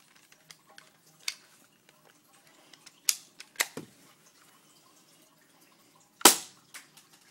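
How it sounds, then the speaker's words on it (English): Sharp snapping clicks and pops of an airsoft pistol, a Taurus-style BB gun with a 20-round magazine, being cocked and fired up close, with scattered light handling clicks between a few louder isolated shots. "This gun really cocks fast."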